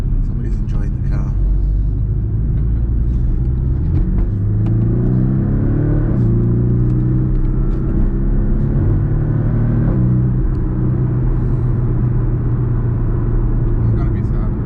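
A car engine revs while driving, a steady low rumble with rising and falling engine tones through the middle, all under voices talking.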